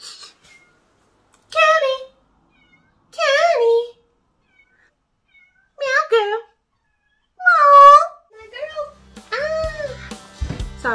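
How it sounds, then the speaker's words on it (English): A kitten meowing loudly indoors, four or five sharp, drawn-out cries separated by short silences, close and prominent, with a person starting to talk at the very end. "my kitten was screaming"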